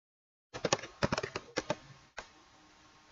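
Quiet keystrokes on a computer keyboard come in a quick irregular burst of close clicks, a short pause, then a single final key press, with no talking.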